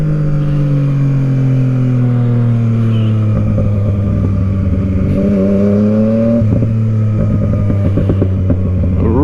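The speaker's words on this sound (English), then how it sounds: "Bike sounds so good." A Yamaha-style Tracer motorcycle on fresh tyres is ridden hard, its engine loud and close, revving up through several rising pitch sweeps, dropping between gear changes, and rumbling with a deep throaty tone.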